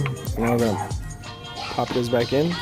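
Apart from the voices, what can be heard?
dog barking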